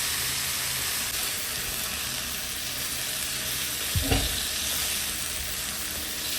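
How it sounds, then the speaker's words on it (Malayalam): Cooked chicken sizzles and fries in a pan with onions for Kerala-style chicken ullarthiyathu, a steady crackle broken by a short scrape of stirring near the end, with no one speaking. "ഇനി നമ്മൾ വേവിച്ച് വെച്ചേക്കുന്ന ചിക്കൻ അതിലേക്ക് ഇടും. എന്നിട്ട് നന്നായിട്ട് മിക്സ് ചെയ്യുക."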